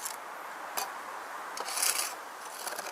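The edge of a mason's trowel presses and scrapes mortar joints between bricks on a flat-laid brick vault ceiling. The scraping comes in short, close bursts, fairly faint and with no voices.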